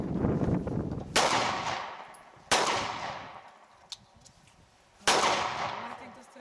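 Gunshots at an outdoor shooting range, three sharp loud cracks spaced more than a second apart, each trailing off in a long echo over quiet background.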